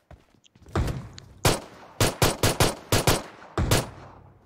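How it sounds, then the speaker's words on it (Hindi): Pistol gunfire in the mobile battle-royale game PUBG Mobile: about eight sharp, loud shots, first spaced, then in a quick irregular burst, with no talking. "Is a pistol fight going on?"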